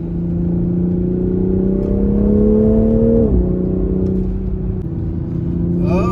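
A 2021 Toyota Supra GR engine drones steadily from inside the car on a test drive, its pitch rising as it accelerates, then dropping at a gear change before pulling on, loud and close.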